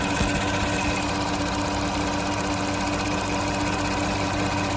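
A freshly rebuilt Volkswagen CC engine runs on its first start, giving a steady, loud, mechanical clatter and hum with no pauses, close up in the engine bay.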